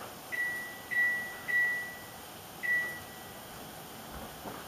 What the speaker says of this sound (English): I will set the timer for 7 to 9 minutes